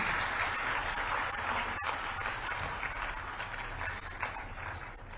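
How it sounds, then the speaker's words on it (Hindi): Applause from an audience at a ceremony honouring top-performing students, a steady, dense wash of clapping that holds throughout at moderate level. "एक बार सबके लिए जोरदार तालियां हो जाएं"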